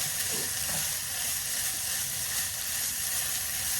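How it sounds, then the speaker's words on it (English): Taco meat sizzles and steams in a hot pan, a steady broadband hiss running evenly through the whole stretch with no talk over it. "you hear that steam on there"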